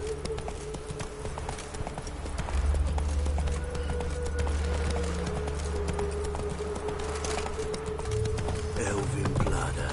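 Hooves of a horse galloping steadily in The Witcher 3 video game, a loud continuous clip-clop under game ambience and music, with a brief spoken line.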